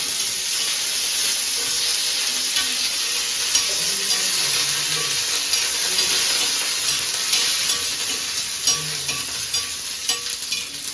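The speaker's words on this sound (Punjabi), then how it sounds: "ਇਹਨੂੰ ਆਪਾਂ ਵਧੀਆ ਤਰੀਕੇ ਨਾਲ ਇਹਨੂੰ ਭੁੰਨ ਲੈਣਾ" Hot oil hisses and sizzles continuously as mustard seeds and whole spices roast for a tempering, with occasional sharp pops and crackles, loud and close, without talk.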